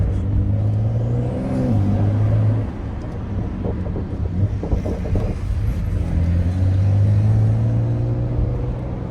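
Porsche 911 Carrera 4S engine running close by, a deep steady rumble and whir with rising and falling revs, loud and continuous with no talk.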